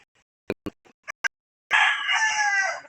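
A rooster among chickens being sold at a backyard pen crows loudly and close after a few sharp knocks and clucks.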